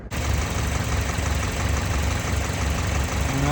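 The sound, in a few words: Toyota engine idling with heater on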